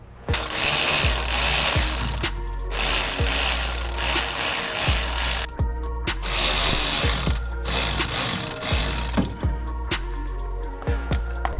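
A ratchet works loose the CV axle bolts on a BMW E36 during a welded differential installation, with long bursts of loud, rapid mechanical clatter broken by short pauses and sharp clicks, close and harsh with no talk.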